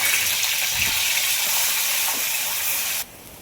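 Grated onion sautéing in hot oil with crackled cumin, a loud, continuous close sizzle with a few soft stirring knocks, ending abruptly after about three seconds.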